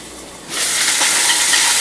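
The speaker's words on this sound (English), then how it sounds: "You can hear that sizzle over there, can't you?" Quinoa and vegetables sauté in an indoor kitchen for a raw vegan dish, giving a steady, fairly loud broadband hiss and sizzle that starts abruptly and holds without a break.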